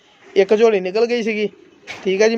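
Rare diamond-breed pigeons coo in low, throaty, rolling phrases close by, two bursts separated by a short pause, mixed in with someone talking.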